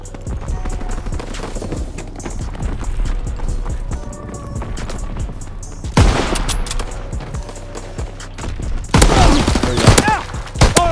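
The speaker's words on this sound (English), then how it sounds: "I thought that was a machine pistol" Gunfire in a World War II shooter game in Gun Game mode: repeated bursts of shots, with louder volleys near the middle and end, over game background noise and no clear talk.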